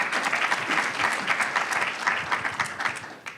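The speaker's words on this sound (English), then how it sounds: "So please give a round of applause to Dr." Conference audience at a tech entrepreneurs' event applauding a speaker's introduction, a steady dense wash of many hands clapping at moderate volume throughout, no talking.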